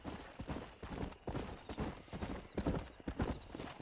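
Horses in the video game Red Dead Redemption, clopping hooves in a rapid uneven rhythm of moderate loudness, with the thud of steps running continuously and no voices.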